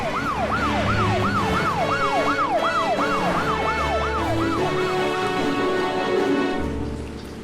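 Several police vehicle sirens wail in a steady repeating rise-and-fall pattern, loud and close, continuing for several seconds before fading slightly at the end.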